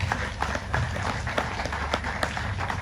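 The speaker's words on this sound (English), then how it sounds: "let's give them a big fat round of applause" An audience at a Ward 17 residents association meeting claps for its committee members, a spirited burst of many hands slapping in quick, uneven rhythm that carries on through the whole moment.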